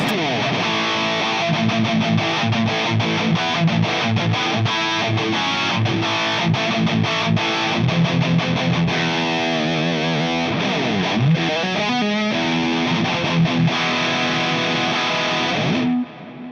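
Overdriven electric guitar through an AT Plus pedal with gain at about 9 o'clock plays chords and riffs for a long stretch, crunchy and loud, before cutting off near the end.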